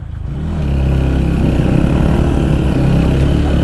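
A scooter engine labors up a steep hill in Tansen, Palpa, a loud, close, steady low drone that builds over the first half-second and then holds under strain.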